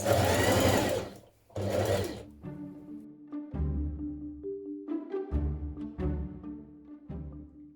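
Sewing machine stitching a dress bodice to its skirt for a wrap dress, a close, steady motor whir in several bursts separated by short pauses, with no talking.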